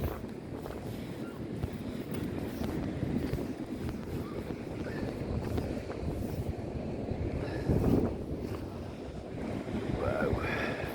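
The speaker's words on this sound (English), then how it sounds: "It's a really windy one this morning." Strong wind buffets the microphone on the seafront esplanade at Paignton, Devon, with waves washing in the background. A constant rough roar carries brief louder gusts throughout.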